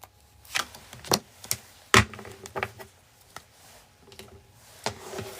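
Tarot cards are shuffled quickly by hand in a quiet room, producing a scattered series of close, sharp riffling taps and slaps of uneven rhythm, with one louder snap partway through.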